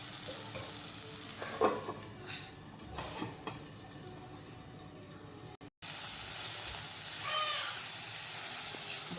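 Tiger prawn curry simmering with turmeric in a covered pan gives a quiet, steady sizzle and bubbling, with a few clinks of the lid or utensils and a brief gap partway through.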